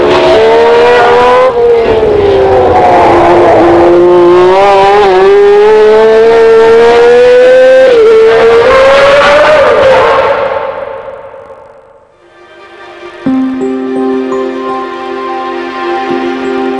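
A Matra MS-73 V12 racing engine fitted in a 1976 Ligier Gitane JS5 Formula One car screams close and loud, its pitch climbing through a long pull. It then fades out briefly before a steady high-revving drone returns.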